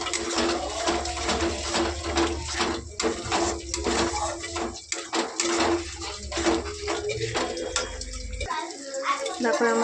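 Water from a bowl used for spices is poured into a cooking pot of fried masala for a Bengali yogurt katla fish curry. It makes a splashing, trickling pour with clinks and a voice talking, then stops near the end.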